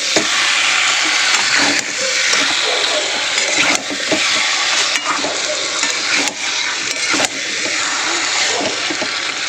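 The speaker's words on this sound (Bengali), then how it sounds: "নাড়িয়ে দেবো ভালো করে।" Chicken pieces stirred in hot spiced oil in a pan: a loud, continuous sizzle that runs the whole time, with repeated scraping and knocking of the spoon as it is turned, and no talking.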